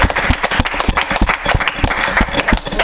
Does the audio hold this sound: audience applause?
yes